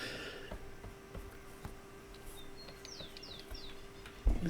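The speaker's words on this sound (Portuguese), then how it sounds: "tem vários cantos de passarinho rolando lá fora" Small birds chirping outdoors, a few faint, quick high tweets heard from a distance through a window over a quiet room hum.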